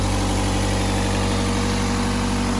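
A Nissan car engine idling after a valve cover replacement, a loud, steady, close mechanical drone with constant low rumble and even texture throughout, no voices.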